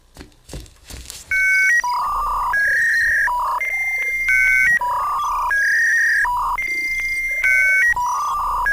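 A computer download alarm from the Creeper video game plays as a loud, repeating electronic tone pattern that cycles steadily after a brief soft rustle at the start.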